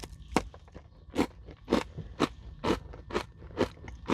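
Close, crisp crunching of a Nature Valley peanut butter granola bar being chewed, about ten sharp bites in a steady rhythm with faint mouth sounds between them and no speech.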